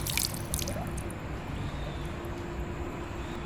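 Water runs from a tap in a park bathroom with a hard stone basin, a steady splashing and dripping hiss close by, with a few sharper splatters at the start.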